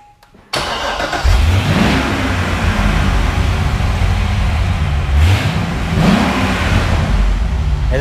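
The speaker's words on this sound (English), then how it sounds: "Go ahead and start the engine up here." A Chevrolet Corvette engine cranks and fires after a short quiet moment, settling into a loud, deep idle with two sharp throttle blips that rise and fall, heard up close without talk.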